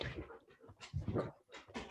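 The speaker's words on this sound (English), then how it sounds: "Sorry, my dogs are all over the place." Several dogs shuffle about a room, giving faint whimpers and soft panting in short irregular bursts, quiet and close, with no one talking.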